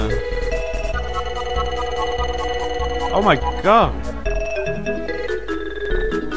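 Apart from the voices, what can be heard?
phone notification sounds from incoming snapshots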